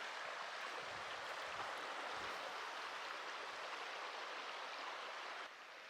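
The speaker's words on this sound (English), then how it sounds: "River is not as spectacularly raging as I had imagined, but it's a nice little water source nonetheless." A small river on the Continental Divide Trail flows with a soft, steady, even rush, faint and continuous throughout.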